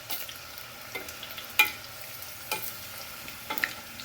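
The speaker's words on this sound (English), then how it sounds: "So now just use a slotted spoon to stir them." Crispy food frying in a pan, stirred with a slotted spoon: a soft, constant sizzle broken by a few scraping clicks of the spoon at irregular intervals, close and fairly quiet.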